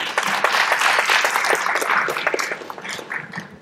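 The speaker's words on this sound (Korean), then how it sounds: "큰 박수로 정은상 교장님 모셔보겠습니다." Warm applause from a forum audience at a 2014 lecture event welcoming principal Jeong Eun-sang to the stage; brisk, dense clapping that swells early and then thins out toward the end.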